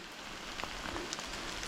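Steady autumn rain falls on a forest hiking trail, a dense even hiss of drops close by, with no voices.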